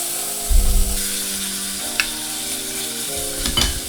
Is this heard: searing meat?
yes